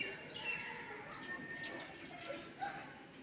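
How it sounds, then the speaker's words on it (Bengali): Stored rainwater is poured from a bucket onto potted plants, a soft, close trickle and splash of water that runs on quietly with faint outdoor ambience. "অল্প অল্প করে জল দিই"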